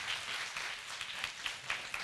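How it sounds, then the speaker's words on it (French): A room of people at a talk gives a short burst of applause, a brisk continuous patter of many hands clapping at moderate loudness throughout. "applaudissez pour vous-même"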